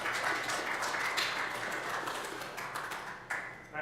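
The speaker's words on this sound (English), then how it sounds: "Please give Chris a round of applause" A conference audience applauds to welcome a speaker to a security talk, a steady dense wash of clapping throughout that thins slightly toward the end.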